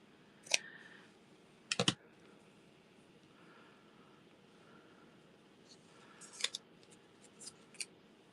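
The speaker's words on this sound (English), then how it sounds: "maybe we can take a little snip of this." Scissors snipping white lace, with a few sharp close clicks and snips, one single and one quick double cut early on and lighter snips near the end, over a quiet room.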